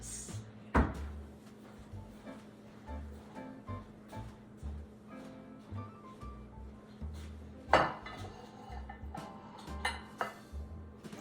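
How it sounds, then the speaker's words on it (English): Ceramic plate being taken from a kitchen cupboard before slicing oranges, heard as two sharp knocks and clatters near 1 and 8 seconds with softer rattling and handling noises in between, no talking. "I'm just gonna get a plate here so I can use it to slice up my oranges."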